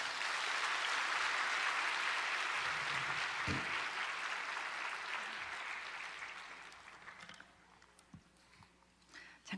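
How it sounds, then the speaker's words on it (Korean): Sustained church congregation applause, loud and dense, gradually fading away over several seconds with a few scattered claps at the end. "오늘 나오실 때 힘찬 박수 맞이하겠습니다."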